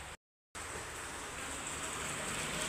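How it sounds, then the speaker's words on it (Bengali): Steady hiss of heavy rain falling outside a home in rural Bangladesh, fairly faint and continuous after a brief dropout at the start. "অনেক বৃষ্টি পড়তেছে, এতক্ষণ একটু থামছিল, আবারও পড়তেছে।"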